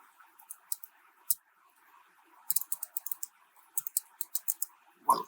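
Text being typed on a computer keyboard, with quick bursts of crisp key clicks in irregular clusters, close and fairly quiet over a faint background hum.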